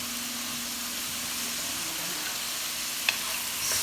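Minestrone ingredients with squeezed dried Italian seasoning are stirred in a pot over heat, giving a constant soft sizzling hiss with a single light clink near the end.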